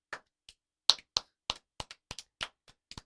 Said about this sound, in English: Maybe if we clap our hands.